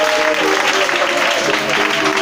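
Congregation at a church service applauding and cheering loudly, a dense steady wash of clapping with voices mixed in throughout.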